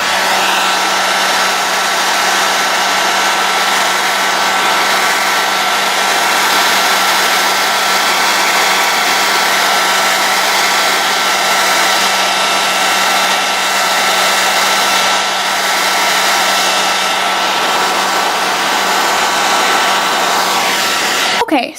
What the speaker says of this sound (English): I have a really old hairdryer.